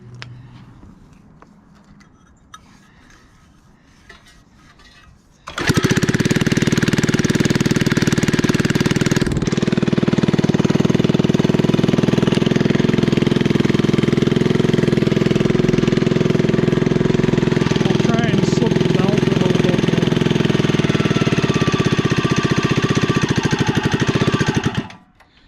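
A small engine on a REO Trikeabout build fires up after a quiet, rustling start and then runs loud and steady with a rough, knocking drone for about twenty seconds before cutting off abruptly.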